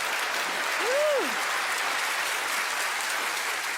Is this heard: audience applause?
yes